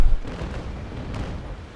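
Ship cannons firing a broadside in the naval game Naval Action, a heavy low boom at the start trailing into a rumbling series of distant reports and echoes, with no talking.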